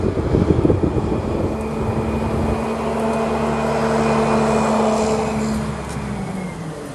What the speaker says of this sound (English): Big noisy truck behind me pulling up